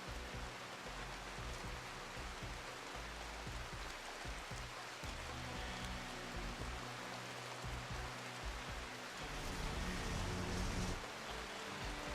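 Steady rain in the video game RimWorld, a soft, even hiss of falling rain that continues without a break throughout, with no voices.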